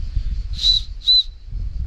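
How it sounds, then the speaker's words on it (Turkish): Two short, shrill blasts from a whistle on a tactical assault vest, in quick succession, fairly close, over a low background rumble. "Düdük falan da çalışıyor yani."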